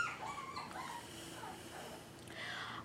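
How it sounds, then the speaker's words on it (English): Three-week-old puppies yipping and whimpering nearby, with thin high-pitched whines and short yelps overlapping in a continuous, moderately quiet chorus. "I'm sorry if you can hear the puppies in the background."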